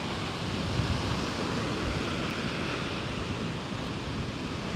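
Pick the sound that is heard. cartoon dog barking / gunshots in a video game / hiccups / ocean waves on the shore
ocean waves on the shore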